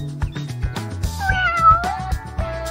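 A cat meows loudly and close in a drawn-out, wavering call over a steady, rhythmic musical backing, with no talk.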